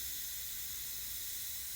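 Air hisses steadily out of a pressurized fuel tank on a Superlite SLC build, a continuous, even, broadband rush that stays constant throughout and is heard alone.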